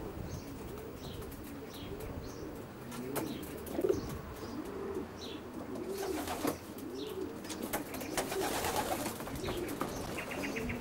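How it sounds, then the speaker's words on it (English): Young racing pigeons coo continuously inside a loft, a low rolling murmur of many birds with occasional chirps and brief wing flaps, steady and moderately close throughout. "Here's a shot of some of Keith's young birds"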